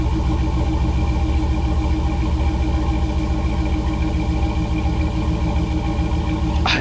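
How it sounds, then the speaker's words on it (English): A Chevy SSR's exhaust idles at a steady, close, loud rumble, its low pulsing drone unbroken throughout with no talking. "Listen to this exhaust."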